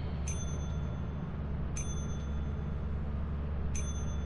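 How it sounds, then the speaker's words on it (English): Bell in the Lethal Company video game rung repeatedly, three bright ding strikes about a second and a half apart over a low steady hum, no voices. "Just press the bell over and over."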